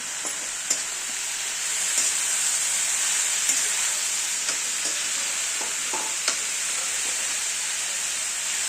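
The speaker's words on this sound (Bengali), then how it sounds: "কড়াতে দেওয়ার পর মোচাটাকে ভালো করে নেড়ে নেবো" Banana flower stirred and fried in a wok for Bengali mochar ghonto, a steady loud sizzle with repeated scraping stirs and small clinks throughout, no talking.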